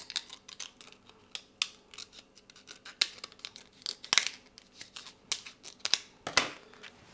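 Scissors snip repeatedly at close range while trimming cake decorations, giving irregular sharp cuts and crisp crinkling bursts, some louder strokes standing out over a quiet background.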